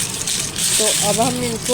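Crunchy sun-dried raw mango pieces rattle and clatter together in a steady, gritty rustle throughout, while a person talks over them partway through.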